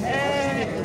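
A ram at a livestock market in Sokuluk gives one short, close, wavering bleat, heard alone for under a second.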